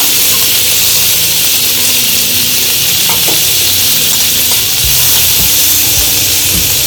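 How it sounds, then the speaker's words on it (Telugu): Capsicum and curry leaves fry in a hot pan for a potato curry, giving a steady, loud, close sizzle and hiss with a few faint stirring knocks, no voices. "కరివేపాకు యాడ్ ఇప్పుడు కొంచెం ఫ్రై అయినాక క్యాప్సికమ్ కూడా యాడ్ చేసుకోవాలి"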